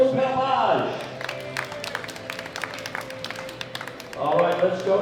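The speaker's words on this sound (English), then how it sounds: "Round of applause to Mr. Gaston Perlage." A powerlifting championship audience applauds, a steady patter of clapping that fills the middle stretch while an announcer's voice speaks over its start and end.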